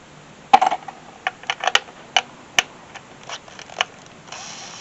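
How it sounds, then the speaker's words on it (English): Metallic clicks and clatters from tools removing bolts on a 2007 Honda CR-V, about a dozen sharp, separate, close-up ticks spread at an irregular pace, then faint hiss. "we get the bolts to remove right here."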